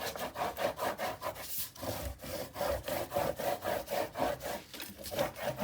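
Paper crease on an 8 x 8 Graphic 45 Steampunk Spells mini album being burnished, giving steady, rhythmic rubbing strokes that repeat about every half second, close and moderately loud with no talking.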